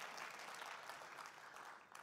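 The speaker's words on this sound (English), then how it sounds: "You can applaud now." Audience applause after a lightning tech talk, a soft, distant wash of clapping that stays fairly even throughout.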